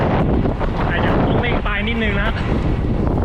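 Strong wind buffets the microphone in a continuous roar, loud and close throughout, with a few tonal whistles briefly rising in the middle.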